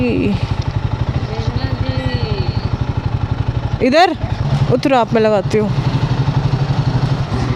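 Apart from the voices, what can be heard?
motorcycle being moved and parked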